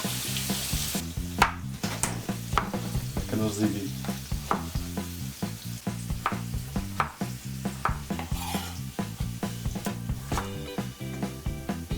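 Onion and pepper sizzling and frying in a pan for samfaina, with repeated scraping stirs of a utensil in a steady rhythm and a few brief spoken words.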